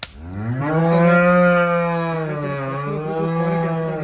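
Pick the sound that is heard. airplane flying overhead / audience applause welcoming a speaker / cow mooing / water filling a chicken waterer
cow mooing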